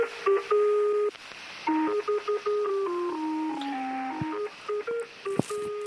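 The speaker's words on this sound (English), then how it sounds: "the most famous number station is the Lincolnshire Poacher, and it sounds like this." The Lincolnshire Poacher shortwave number station plays a tinny, radio-filtered melody of steady electronic tones in a simple stepping tune, with brief gaps and slight static in the background.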